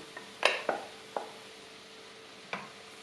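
Mushrooms and onion cooking in a pan for a mushroom and walnut pâté, with a few distinct spoon-against-pan clacks and scrapes from stirring over a faint low background.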